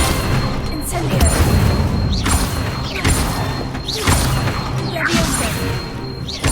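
An Incendio fire spell from Hogwarts Legacy is cast again and again as a rhythmic series of whooshing bursts, each about a second apart. They sound loud and close over dense game combat noise.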